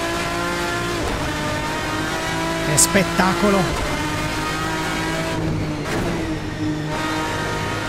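A modded race car in Assetto Corsa holds a steady engine drone, with a brief tyre squeal and shifting revs near the middle and a short rising burst later, while someone talks over it.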